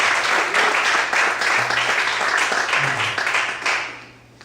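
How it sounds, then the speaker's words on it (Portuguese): Church congregation applauding to glorify God, a thick continuous wash of many hands clapping, loud and sustained before tapering off at the end, with a faint low tone running underneath. "Quantos podem aplaudir e glorificar a Deus?"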